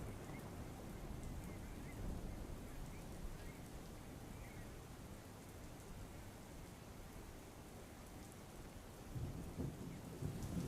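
Heavy monsoon rain pours down steadily in rural Talala, Gir Somnath, with rumbling thunder rolling underneath throughout and a louder swell near the end; no one speaks.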